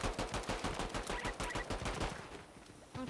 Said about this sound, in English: The drum gun.